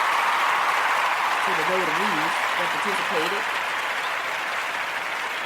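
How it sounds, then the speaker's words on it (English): Sustained audience applause fills the whole stretch at a steady, dense level, with a brief voice speaking over the clapping partway through. "Let me give them a round of applause."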